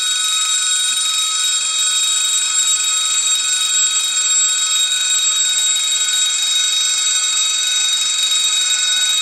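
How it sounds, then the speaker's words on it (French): A model railway level crossing bell driven by an Arduino rings continuously as a steady, high electronic alarm tone, loud and unbroken throughout. "La sonnerie."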